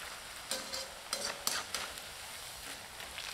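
Cauliflower Manchurian pieces bubbling and sizzling in hot oil for a restaurant-style dish, a steady crackling bed with a few louder stirring scrapes and clinks, close and moderately quiet, no voices.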